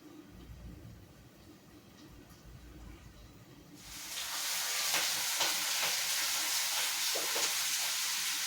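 A watery spice paste of salt, turmeric and Kashmiri chilli powder hits a hot pan for a thin meat curry, a loud sudden sizzle bursting in midway after quieter cooking noise and holding steady to the end.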